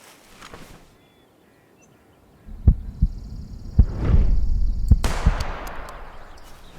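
Rifle shots fired at an animal while hunting in the video game Hunting Simulator 2: several loud, sharp, booming cracks spaced a second or so apart, with rumbling and an outdoor ambience between them, no talk.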